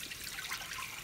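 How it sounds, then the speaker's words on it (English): Water pours steadily into a pot of white rice for cooking, a soft continuous trickling and splashing at low level with no talk. "and then I'm going to add water"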